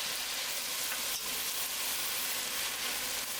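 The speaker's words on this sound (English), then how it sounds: "veggies been sauteing here for about 6 minutes, and they smell wonderful" Carrots and celery sautéing in a pot for potato soup with sausage, a dense, steady sizzle and crackle of frying vegetables that stays even and continuous throughout, with no talking.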